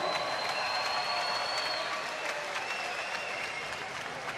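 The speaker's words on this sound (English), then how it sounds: "give these folks a round of applause" An audience at a kickboxing event applauding, a continuous, fairly loud rush of clapping and crowd noise that slowly eases off, with a faint voice over it.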